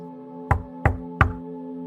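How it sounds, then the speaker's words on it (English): Three gentle, evenly spaced knocks on a door, soft and close, each a dull thud over a steady background tone. "One day, Fatima alayhi salam heard a gentle knock on her door."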